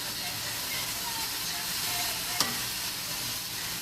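Egg roll filling seasoned with soy sauce fries in a pan, giving a steady low sizzle and hiss throughout with a single sharp clink partway through.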